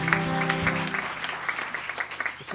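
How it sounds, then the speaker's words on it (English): Applause from a live event audience for the volunteers, a steady dense patter of many hands lasting throughout, close and fairly loud, with some low musical or voice tones underneath at the start. "Let's give them another round of applause for the volunteers."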